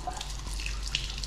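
Water runs steadily from an unusual bathroom fixture at a Radisson Blu hotel in Kuwait, a soft continuous hiss and patter with a faint brief drip-like accent, heard close and alone.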